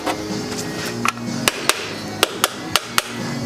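Small hammer striking a rusted Watson shock absorber to knock a piece loose, about eight sharp metallic taps spaced irregularly over a low background hum, close and fairly loud.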